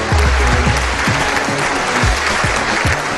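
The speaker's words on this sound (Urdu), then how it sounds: "بہت ساری تالیاں طارق عزیز صاحب کے لیے ہونی چاہیے" A studio audience on a game show claps loudly for the host Tariq Aziz. The dense, continuous applause is close and full, with a repeating swooping electronic tone running beneath it.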